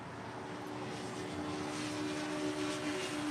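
A passenger airliner landing at LAX, a steady broad engine roar holding at a constant level throughout, with a faint sustained tonal whine running underneath.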